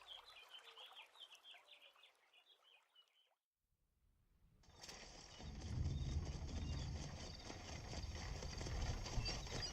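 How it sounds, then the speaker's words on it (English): Horses clip-clopping in an audio drama, with birds chirping first, a brief silence, then a rising, steady rush of hooves and movement that grows loud and continuous. "Dorothy, get the horses ready"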